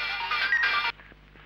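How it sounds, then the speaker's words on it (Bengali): A telephone rings loud and close in a Bangla romantic drama scene, one bright electronic burst lasting under a second before cutting off to a quiet room. "রাজ ফোন করেছে"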